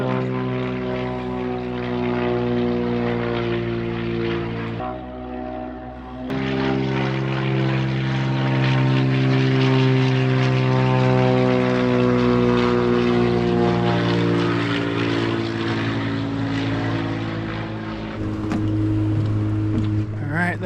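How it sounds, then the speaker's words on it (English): A propeller floatplane arriving at a remote lakeside cabin with a dock drones loudly and steadily, its engine tone shifting in pitch as it approaches and passes, with a brief dip partway through. "Alright, that's our plane"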